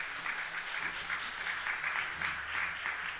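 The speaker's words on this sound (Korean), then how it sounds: "우리 하나님께 영광의 박수 올려드리면서 환영하도록 하겠습니다." A church congregation at a Sunday mission-report service claps together in a steady, moderately distant round of applause.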